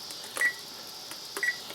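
Kitchen timer being set while preparing sliced Spam, giving a few short electronic beeps, two quick clusters of bright tones over a quiet background.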